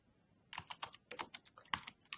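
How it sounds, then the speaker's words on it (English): Quick bursts of keystrokes on a computer keyboard, faint and fairly close, come in an irregular rhythm for about two seconds, with no voices. "if you type down like this, what will happen?"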